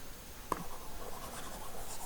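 Chalk or marker writing on a classroom board during a trigonometry lesson, a soft steady scratching stroke with one sharper tap near the start, close and unaccompanied by talk.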